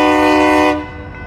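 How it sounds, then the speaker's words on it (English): A loud, close train horn blares with a rich tonal chord, then cuts off, leaving a lower rumbling drone behind, at a big train yard in Enid, Oklahoma. "Big train"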